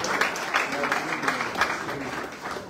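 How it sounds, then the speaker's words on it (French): A church congregation claps together in praise of the Lord, the applause steady and fairly close, with voices mixed in under it. "Est-ce qu'on peut acclamer le Seigneur, s'il vous plaît?"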